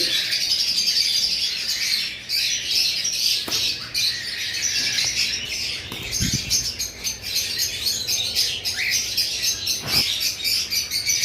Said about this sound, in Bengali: উপরে আমাদের কাছে কিছু পাখি রয়েছে